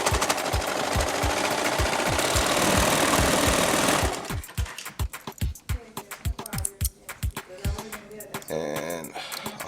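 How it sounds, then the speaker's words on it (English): A serger sewing machine trims and overlocks a fabric edge with a fast, loud, continuous rattling run, then shifts to separate rhythmic mechanical clacks as it slows. "As you can see in the serger, there's a needle that actually cuts and then sews over."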